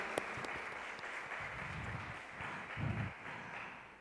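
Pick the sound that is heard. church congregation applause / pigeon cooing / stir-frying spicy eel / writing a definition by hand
church congregation applause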